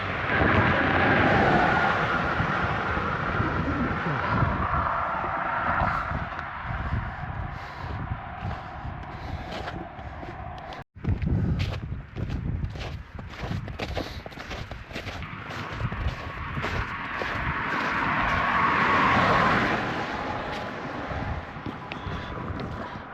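A car approaches and passes on a road at a bridge, its rushing engine and tire noise swelling loud and close, briefly cutting out, then rising again amid strong wind buffeting outdoors.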